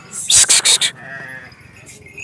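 A sheep lets out a loud, wavering bleat close by, followed by quieter background noise and a faint second call.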